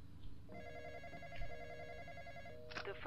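In the Roblox game The Intruder, a telephone rings with a tonal electronic trill that repeats in short pulses, faint and quiet against a low background hum, with a brief sharper sound near the end.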